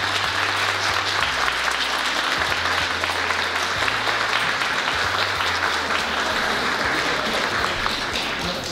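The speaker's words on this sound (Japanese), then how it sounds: "大きな拍手をお願いいたします。" An audience claps at a prize-money presentation during a celebration party, thick continuous applause filling the room, loud and sustained for nearly nine seconds under a low hum of background sound.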